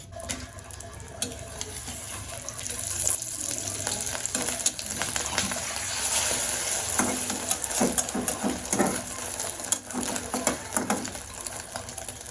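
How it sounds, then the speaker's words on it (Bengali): Eggs fry in a pan with chopped onion, giving a continuous bright sizzle broken by scraping and stirring clatters; no talking. "এখন করতেছি ডিম ভাজা"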